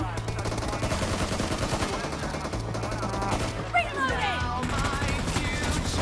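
Gunfire in the mobile battle royale game PUBG Mobile crackles in rapid automatic bursts under a game's background music and effects, with a player talking excitedly over it.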